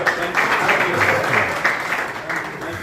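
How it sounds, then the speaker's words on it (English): Audience clapping at a dialogue gathering with National Assembly members in Gambia, a steady wash of hands from a crowd in a room, moderately loud and continuous, with voices mixed in. "clap for yourself"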